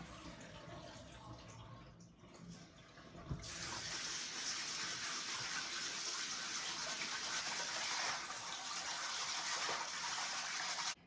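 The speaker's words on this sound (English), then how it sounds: "Cold water, just to get some of the starches off." Tap water gushes steadily into a sink after a click, running loudly and continuously to rinse rice, with faint rustling before it starts.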